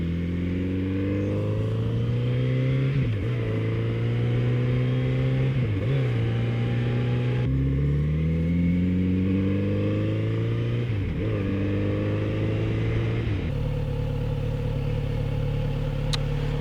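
Kawasaki Z900RS Cafe motorcycle engine droning steadily while riding, rising and falling in pitch through several gear changes, loud and continuous with no talk.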